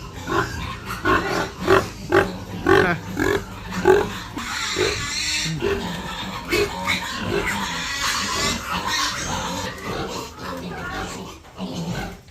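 A large boar grunting in a farm pig pen, with a run of rhythmic low grunts up close followed by rougher snorting and rustling, while a person talks over parts of it.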